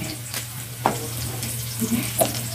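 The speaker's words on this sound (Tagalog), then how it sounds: "ilagay na natin yung ating karne" Pork meat drops into a hot pan and starts to sizzle, with a few stirring clinks and scrapes over a steady background hum. The crackle is moderate and close.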